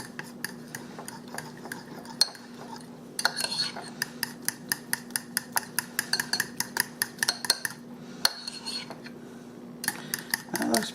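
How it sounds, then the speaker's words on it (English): A spoon scrapes and clinks rhythmically against a bowl while stirring a ham and corn casserole mixture, a run of quick, close, sharp taps over a faint hum. "You just want to keep mixing it until it's smooth."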